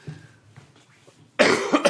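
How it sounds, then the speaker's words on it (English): One person coughs: a quiet throat sound first, then a sudden loud, harsh cough burst near the end with a couple of rough follow-up spasms. "I actually have a really bad cough"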